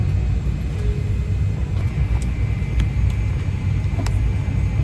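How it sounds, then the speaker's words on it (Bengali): Inside an airplane cabin just after boarding, a constant low engine rumble fills the space, loud and unbroken, with faint clicks and rustles over it. "আমরা উঠে গিয়েছি প্লেনে তারেক"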